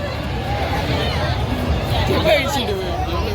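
A thick crowd at a night village fair creates a dense, steady babble of many voices close around, a continuous hubbub with nearby talking mixed into it.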